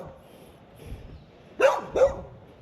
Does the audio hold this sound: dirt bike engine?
no